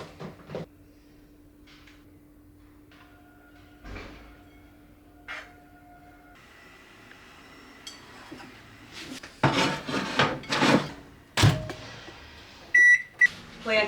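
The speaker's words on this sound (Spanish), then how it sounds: "Así que lo coloco todo al microondas y a comer." A microwave oven heats rice and vegetables, its low steady hum running for several seconds before the door opens with clatters and clunks, followed by a few sharp beeps.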